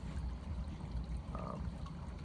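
Water trickling and pouring over a Micro Mat Mini 6 gold sluice, a soft, steady, low-level flow heard alone.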